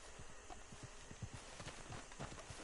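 Horse hooves clip-clop steadily in Red Dead Redemption II, a quick repeating gait of close, moderately loud footfalls over a constant outdoor ambience, with no voices.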